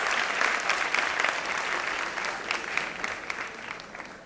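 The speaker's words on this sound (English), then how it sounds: "So a big round of applause for my staff" An audience at a staff felicitation ceremony for 25+ years of service claps warmly for the staff, a steady, fairly loud burst of applause lasting a few seconds with no talking over it.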